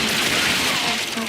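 Laser guns fire in the video game Remnant 2 as a dense, continuous burst of rapid shots filling the whole moment, with a faint voice underneath.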